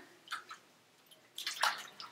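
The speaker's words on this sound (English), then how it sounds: "I just take the lettuce leaves and kind of swish them around in the water" Soft watery swishing and sloshing in two short bursts, lettuce leaves being moved around in a basin of water, with quiet pauses between.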